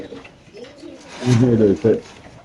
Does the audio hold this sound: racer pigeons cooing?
yes